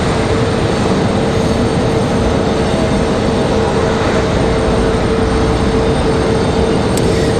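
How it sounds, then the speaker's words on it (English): An Embraer E175 regional jet at an airport gate with its engines shutting down, giving a loud, constant turbine roar with a steady whine running underneath from start to finish. "We still have an E175 below us trying to get into the gate. That's what you guys are hearing right now."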